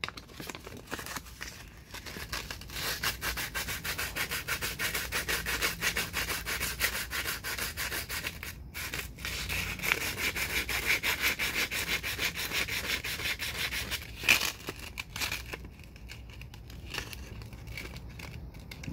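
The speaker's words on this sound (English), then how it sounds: "we're going to take our light bulb right here. And we're going to take a piece of sandpaper." Sandpaper scrubs steadily against a glass light bulb, a continuous close, dry rasping that runs nearly the whole time with only brief pauses and no talking.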